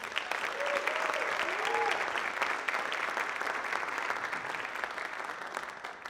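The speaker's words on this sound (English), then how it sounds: "Another round of applause for them." Applause from the audience at a high school winter band concert, a steady wash of clapping that holds evenly for several seconds, with a few brief whoops or cheers early on.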